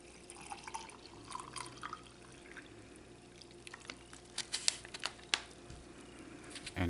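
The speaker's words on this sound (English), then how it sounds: "We're going to add about 12 ounces of cold water." Cold water, about twelve ounces, trickles into an MRE beverage pouch as a faint, close pour with splashy drips and small gurgles that grow busier toward the end.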